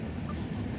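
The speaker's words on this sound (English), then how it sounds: "This is my new" Kadaknath cross hen clucking softly and steadily close by, a brief low, continuous burble of fowl sounds with no talk over it.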